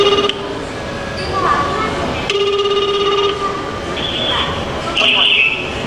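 A telephone rings in a staged phone-scam demonstration at a community safety event, with repeated ringing bursts and tones over a hall's background noise.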